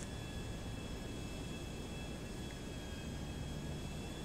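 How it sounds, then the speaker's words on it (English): A small airplane drones close by with a steady, continuous engine hum and a broad roar that hold level throughout, with no talk. "Wait, did you almost run into me with your plane?"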